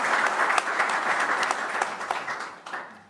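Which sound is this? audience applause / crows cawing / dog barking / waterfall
audience applause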